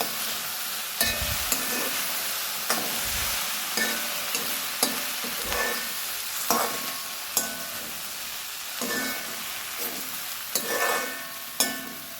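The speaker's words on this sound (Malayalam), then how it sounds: "അതൊക്കെ ഒന്ന് തുറന്ന് ഇളക്കി കൊടുക്കണേ അല്ലെങ്കിൽ ഇതൊക്കെ കരിഞ്ഞു പിടിക്കാൻ സാധ്യതയുണ്ട്" Okra thoran (stir-fried okra) is stirred in a hot pan, with repeated scraping and tossing strokes over a soft, continuous sizzle, close by and with no voices.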